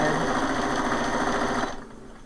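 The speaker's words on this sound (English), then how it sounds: "right there at the shoulders is where I'm going to be sewing. I'm going to do a straight stitch." A sewing machine runs a straight stitch at the shoulders of a doll-sized hospital gown, a steady, close, loud whirring hum that stops abruptly near the end.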